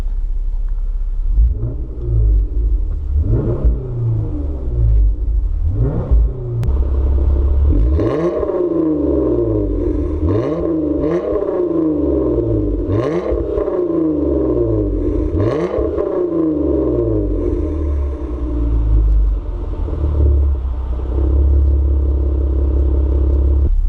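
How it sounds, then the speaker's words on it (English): A 2018 Jeep Wrangler JKU engine revs up repeatedly in short bursts over a steady low idle rumble, each rev rising then falling, close and loud. "when I rev it, see I have my feet down here, and I'm gonna give it a little rev"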